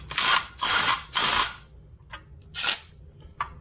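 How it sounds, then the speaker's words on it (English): DeWalt DCF901 brushless impact wrench firing in short loud bursts, three hammering rattles close together followed by a couple of shorter, quieter pulses and clicks, working on a Mitsubishi L200 prop shaft bearing. "There, DCF 901 impact wrench."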